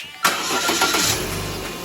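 A Chevy Cruze engine cranks and catches after a timing belt and water pump replacement, bursting in loud after a short quiet lead-in and settling into a steady close idle.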